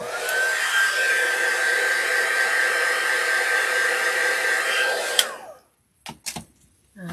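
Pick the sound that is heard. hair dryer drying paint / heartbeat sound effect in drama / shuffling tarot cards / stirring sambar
hair dryer drying paint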